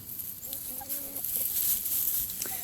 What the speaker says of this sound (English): Oh, they found the compost pile. Happy chickens.